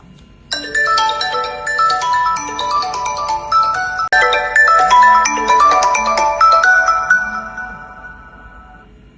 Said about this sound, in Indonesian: Telepon Pak Ika, takut nggak diizinkan.